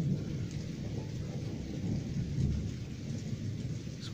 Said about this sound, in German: Die Blitze werden immer heller, die Donner werden immer lauter